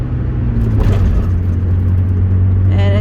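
A manual-transmission car pulls away in third gear as the clutch is released, its engine rumbling loud and close from inside the cabin with a steady low drone that rises slightly. No one speaks.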